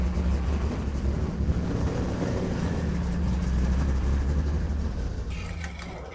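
A small gasoline engine runs steadily at idle after being fired up, a low continuous rumble with a faint higher whine near the end.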